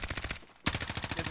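Rapid automatic gunfire in the Warzone video game, a fast rhythmic burst of shots that pauses briefly and resumes, moderately loud and close.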